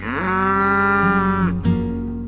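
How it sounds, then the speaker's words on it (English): A cow lowing across a pasture gives one long, loud, drawn-out moo up close, then a brief second call as it fades. "In the chorus of cows lowing across the pasture."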